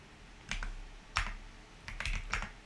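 Soft keystrokes on a computer keyboard come in short clustered bursts, a few quick taps at a time with brief pauses between, faint and close.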